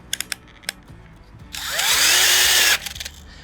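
A power drill turns a power planter auger into soil, a loud revving whine rising and holding for about a second before cutting off, with a few light knocks before it.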